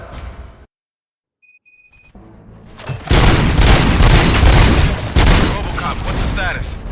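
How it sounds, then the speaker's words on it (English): Bursts of heavy gunfire in the video game RoboCop: Rogue City break out after a brief silence, loud and sustained with booming impacts, and voices can be heard beneath the shooting. "Gunshots? What's going on?"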